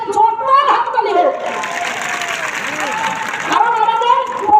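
A crowd at a public gathering breaks into sustained clapping for a police station officer, swelling in the middle, while an amplified voice speaks loudly over the start and end.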